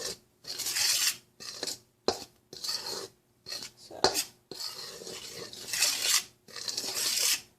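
A spoon working through flour tortilla dough ingredients in a bowl, heard as a series of soft rhythmic scraping and rubbing strokes separated by short pauses, close and fairly quiet.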